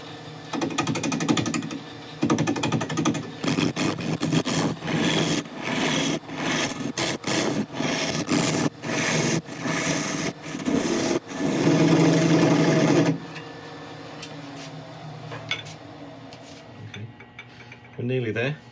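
A wood lathe spins a burl at about 750 RPM while a carbide cutter works a tight area. It makes a loud, steady grinding whir with rapid chattering bursts, then drops to a quieter hum near the end.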